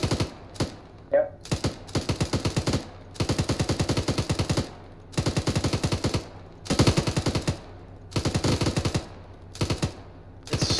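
Machine gun fire in ArmA 3, loud, close bursts of rapid shots, each lasting about a second, separated by short silent gaps and repeating steadily.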